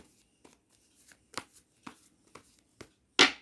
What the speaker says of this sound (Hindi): सो अच्छे से शफल कर लेती हूँ पहले मैं